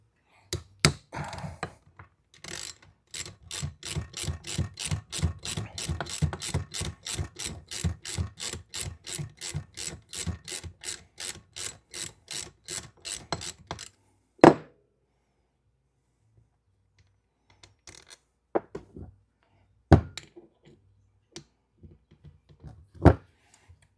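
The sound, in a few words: ratchet removing rear tensioner on 2006 Harley Dyna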